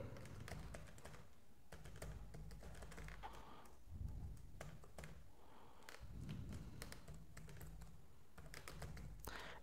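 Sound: typing an email on a computer keyboard

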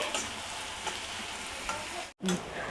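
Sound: onions and cluster beans frying in pan

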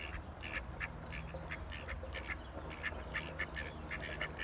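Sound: ducks quacking

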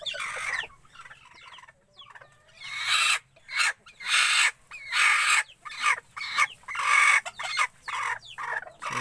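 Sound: bantam chickens clucking near a nesting hen

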